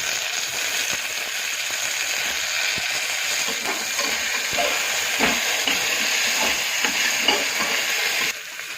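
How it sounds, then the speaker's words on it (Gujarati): Chopped tomatoes dropped into frying onions and whole spices in a pot for desi chana pulao, giving a steady close hiss and sizzle with scattered stirring clicks, then settling quieter at the end. "હવે અંદર ટામેટાં નાખી દઈએ."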